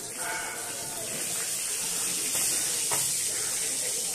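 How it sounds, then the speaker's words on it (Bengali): Black cumin seeds and four green chillies sizzle in hot oil as a steady, close hiss of frying that holds evenly throughout, with a faint clink of stirring partway through. "সামান্য কালো জিরে আর 4টে কাঁচা লঙ্কা ফোড়ন দিলাম।"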